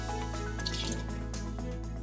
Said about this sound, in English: When it comes time to trim the fiddleheads, first of all, I like to dump them in water.